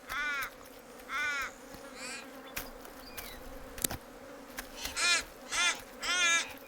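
Ravens caw repeatedly in harsh, hoarse bursts, squabbling with a young wedge-tailed eagle over carrion on open plains, several calls near and fairly loud against a steady outdoor background.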